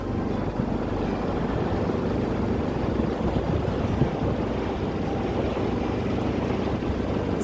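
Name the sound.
motorboat cruising on Lake Alexandrina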